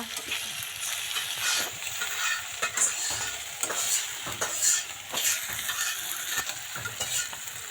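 Ginger and cumin paste frying in oil for a roast, with a steady close sizzle and repeated scraping stirs of a utensil against the pan.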